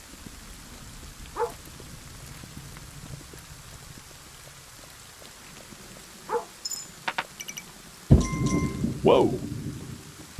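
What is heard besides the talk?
loud thunder during a storm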